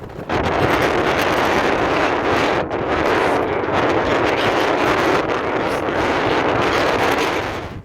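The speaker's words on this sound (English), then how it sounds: "It's quite wet and quite windy." Strong, steady wet wind roars and buffets the microphone throughout near Lochmaddy on the Hebridean Way, a loud broadband rush with a brief dip midway.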